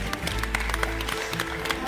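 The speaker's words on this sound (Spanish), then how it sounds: "Un fuerte aplauso para él." Audience applause at a traditional Zamora flour bread presentation, a brief burst of scattered clapping from a modest crowd, fairly distant and mixed with some background voices.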